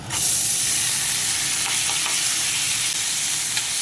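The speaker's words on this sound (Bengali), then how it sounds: "চালটা ভেজে দিলাম, চালটা একটু ভাজা ভাজা হোক" Rice for vegetarian khichdi sizzles and crackles in a hot pan, a steady loud hiss with occasional stirring scrapes, close up and without talking.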